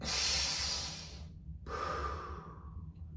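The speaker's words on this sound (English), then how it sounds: "6 breaths now, into the nose, out through the mouth" Two slow breaths, a long airy inhale through the nose followed after a short pause by a softer exhale through the mouth, close and steady during a guided stress-relief breathing exercise.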